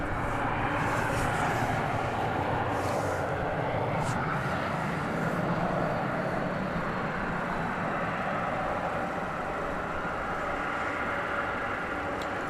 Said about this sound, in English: Arriving from Las Vegas, this Airbus A321, flight 1974, American Airlines.